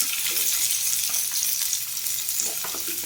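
Sliced onions and cashews fry in a little oil, a continuous bright sizzle with soft scraping as they are stirred, steady and close with no voices.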